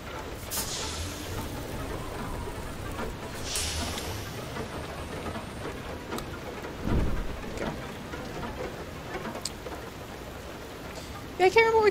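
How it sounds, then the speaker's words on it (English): Steady dense patter of hail falling throughout in the video game Far: Lone Sails, a broadband hiss with occasional louder gusts and a low rumble, plus a brief metallic rattle near the end; a person talks over it. "I do love this, the sound of this hail."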